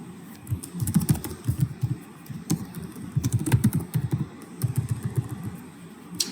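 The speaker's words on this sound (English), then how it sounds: "We can start typing." Steady typing on a computer keyboard, with rapid, irregular key clicks close by running throughout with no talk.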